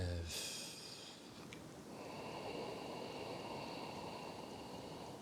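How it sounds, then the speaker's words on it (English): Slow, deep breathing through the nose during a morning meditation session, with steady airy inhalations and exhalations close to the microphone and no talking. "Let us take a few deep breaths"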